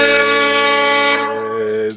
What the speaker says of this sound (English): I'm gonna wait for the air horn.